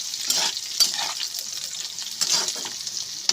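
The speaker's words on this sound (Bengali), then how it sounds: "দিয়ে ভালো করে একটু কষে নেব" Curry ingredients for a Bengali cabbage dish stir-fried in a pan: a hissing fry broken by several close scraping stirs, moderately loud and with no one speaking.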